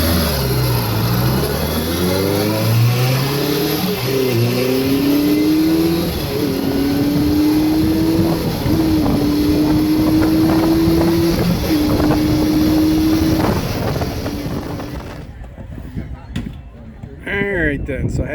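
A 1978 Suzuki GS550 motorcycle engine drones steadily at speed on a highway, its pitch rising through gears under heavy buffeting wind noise, before the engine note drops away near the end.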